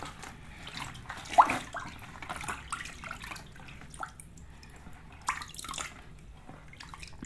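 Water being poured and swirled for a spiritual cleansing bath: soft drips and light sloshing, quiet and scattered, with a few brief louder splashes and no talking.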